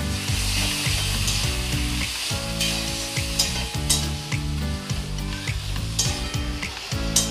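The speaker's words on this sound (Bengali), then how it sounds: "এবার আমি পেঁয়াজের সাথে ভালো করে মিশিয়ে নেব" Boiled taro mixed with onions in a frying pan, with a spatula scraping and knocking rhythmically against the pan over a continuous close sizzle.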